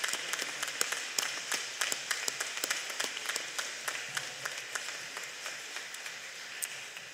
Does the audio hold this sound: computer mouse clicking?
no